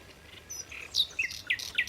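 A nightingale sings bright, high-pitched chirps and whistled notes in quick irregular bursts over a quiet background at Fingringhoe Wick.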